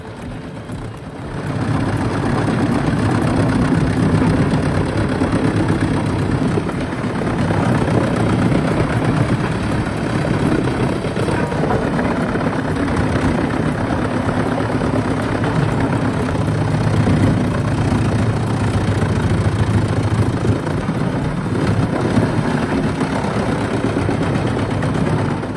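Continuous heavy mechanical drone of a 400-horsepower Blue Devil twin-shaft shredder crushing scrap steel and non-ferrous metals at slow speed, a steady loud rumble with grinding texture throughout.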